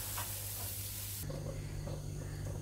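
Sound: roasting coconut in a pan

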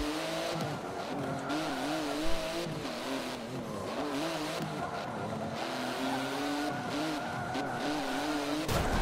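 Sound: racing car driving and braking in Forza Motorsport 7 video game

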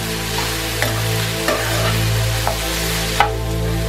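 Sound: sautéing cashews, green chillies and onion in a pan

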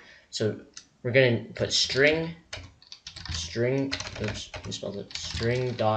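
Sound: typing code on a computer keyboard

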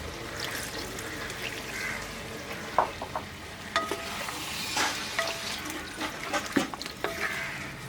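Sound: water added to sizzling chicken curry

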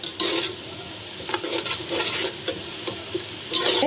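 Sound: garam masala crackling in hot oil

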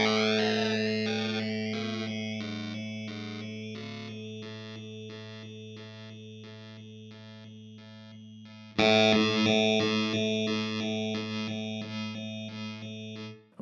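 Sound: Red Panda Bitmap pedal rhythmic effect with frequency and depth knobs

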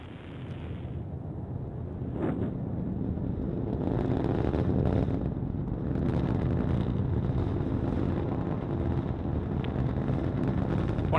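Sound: Delta IV rocket launch roar in flight

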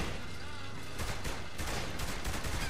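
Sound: machine gun fire in the video game Saints Row The Third

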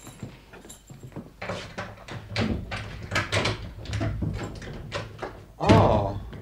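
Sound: door with bolts being unlocked and opened, radio drama effect

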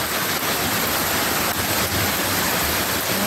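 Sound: rainwater running off the road into the yard

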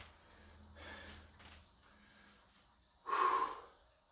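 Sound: heavy breathing after clapping push-ups with weighted vest

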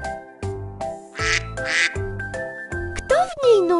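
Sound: duck quacking

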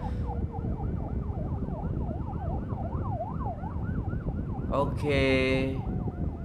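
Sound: ambulance siren in traffic

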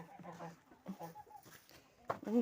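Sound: chickens clucking

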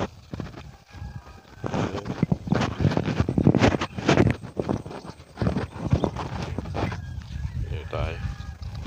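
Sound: loose water buffalo (carabao) walking

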